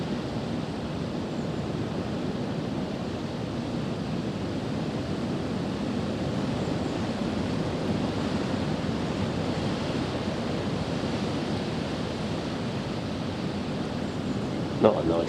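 Steady, roaring wind over a lake buffets the microphone throughout, a dense continuous rush with no gaps and one brief bump near the end.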